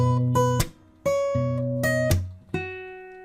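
Bar 93 of a fingerstyle arrangement plays on a solo acoustic guitar, close and clean: plucked bass notes and chords with a few sharp attacks, each left to ring, and no voice.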